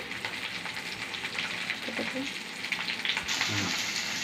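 Long-cut brinjal and potato pieces frying in hot oil in a home kitchen, giving a steady, fairly quiet sizzle with a few light clinks and stirring knocks. The hiss grows brighter and louder near the end.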